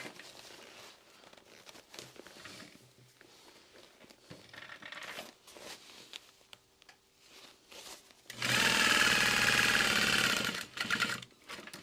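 Sewing machine basting along the edge of a backpack, quiet handling and rustling of fabric followed by a loud continuous burst of stitching lasting about two seconds, then more soft handling.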